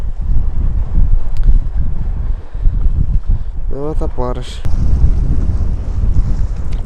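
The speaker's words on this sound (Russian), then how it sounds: "Ветер еще сильнее, блин, становится." Strong gusting wind buffets the microphone beside a reservoir during a storm, a steady loud roar with rumbling low end; someone speaks briefly partway through.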